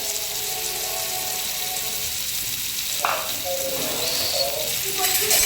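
Marinated rawas fish pieces, coated in masala, turmeric, green paste and red chilli, fry in oil over garlic with a continuous close sizzle, broken by a few light clinks of a turner.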